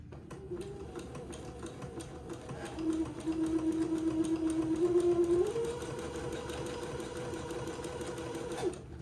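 A domestic sewing machine runs steadily, stitching entredeux lace to both sides of a strip of beading for a baby daygown, its motor whirring continuously with a slight rise in pitch and speed midway, close and alone.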